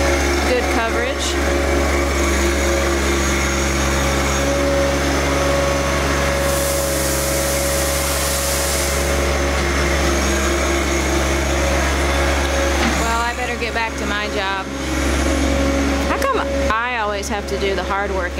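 Engine of a John Deere 1025R compact tractor with loader running loud and steady throughout, a constant droning hum with a brief hissing surge partway, as a person talks over it near the end.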